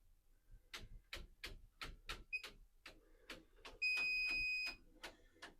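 An electrical outlet tester gives a series of short, rhythmic ticking beeps, with a few higher tones and one longer, sustained beep near the end, close by.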